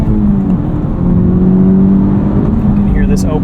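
A 2023 Honda Civic Type R with its front resonator deleted revs hard, a loud, close, droning exhaust note that climbs steadily and fills the whole stretch.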